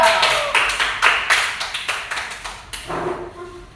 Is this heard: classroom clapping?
yes